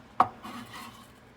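Chopped onion scooped into a bowl while making barbecue bacon cheeseburger tacos: one sharp close clatter against the bowl, then faint soft scraping and rustling.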